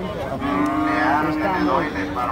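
Cow at a livestock auction lowing in a long, loud moo with rich harmonics that rises and falls over about two seconds, close to the listener.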